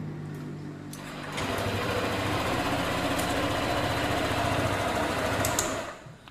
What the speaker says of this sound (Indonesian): Motor bisa hidup.